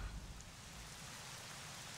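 Rain in The Legend of Zelda: Twilight Princess, at stormy Hyrule Castle, falls as a faint, even hiss over a low rumble, with a brief thump at the start and no voices.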